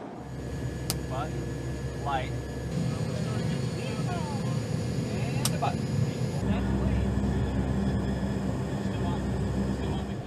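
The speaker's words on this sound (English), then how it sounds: "The P-3 aircraft's takeoff signifies the beginning of a mission which combines high technology with high stakes" A CBP P-3 Orion turboprop aircraft takes off with a steady, droning engine roar and a whining tone held throughout, fairly loud and continuous.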